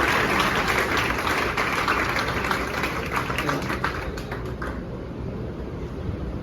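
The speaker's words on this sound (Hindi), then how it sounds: "चलो इसके लिए जोरदार ताली बजाओ" A room full of students applauds loudly for a newly selected TGT drawing teacher, the dense clapping holding for several seconds before tapering off.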